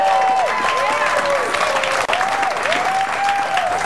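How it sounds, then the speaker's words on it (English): Studio audience applause fills the space, a steady dense clatter of many hands, with a musical tone gliding in and out over it and a brief dip near the middle. "I think that deserves a round of applause,"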